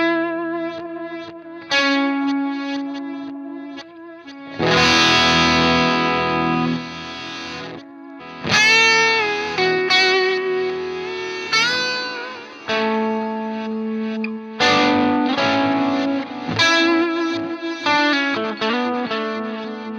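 Electric guitar through a reverse delay effect on a HeadRush pedalboard: chords and single notes swell in backwards, with smeared, reversed echoes blooming after each attack, loud and continuous throughout.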